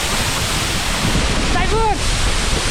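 Suptadhara waterfall in Sitakunda roars as a loud, dense, unbroken rush of falling water, with a brief whistling tone rising above it partway through.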